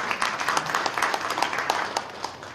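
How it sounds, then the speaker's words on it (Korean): An audience at a New Year prayer breakfast in a hotel hall applauds as pastors are called up, brisk many-handed clapping, close and lively, with slight swells. "박수로 모시겠습니다."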